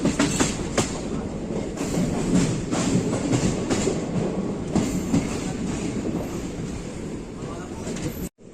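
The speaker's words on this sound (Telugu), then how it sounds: "సో ట్రైన్ అయితే ఉప్పల్ స్టేషన్కి అయితే రీచ్ అవుతుంది" Morning passenger train rolling into platform 1 at Uppal railway station on the Jammikunta–Kazipet line, close and loud, with a continuous rumble and a rhythmic clickety-clack of wheels over rail joints that cuts off abruptly at the end.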